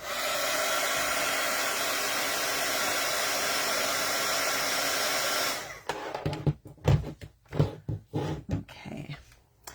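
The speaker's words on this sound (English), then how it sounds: "Let's give him a little hit with the dryer here." A hair dryer blows on wet paint with a loud, steady whir for about five seconds, then cuts off, leaving quiet brushing and handling noises.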